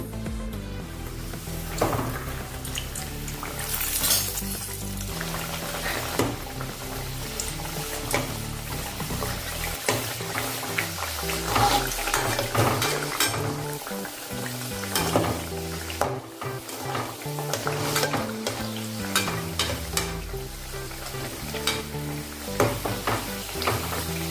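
Bedmi puri dough frying in hot oil, cooked halwai style, with a steady close sizzle and repeated stirring and utensil clinks throughout, with no talking.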